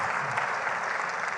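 Applause fills a climate conference hall, a dense, even wash of many hands clapping that holds steady throughout the short stretch, with no one speaking over it.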